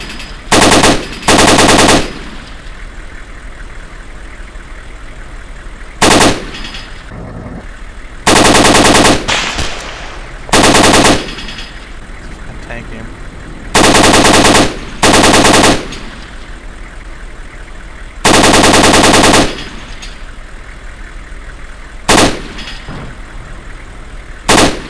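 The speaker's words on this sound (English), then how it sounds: "There's someone shooting me." Bursts of automatic gunfire from an Arma war game battle, loud and close, come in repeated rapid volleys separated by stretches of low engine-like hum.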